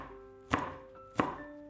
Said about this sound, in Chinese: 准备几个青线椒，给它切成圈